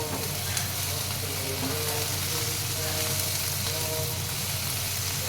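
Tomato gravy for paneer butter masala fries steadily in a pan over a low gas flame, giving a continuous close sizzle and crackle with a faint low hum throughout and no talking.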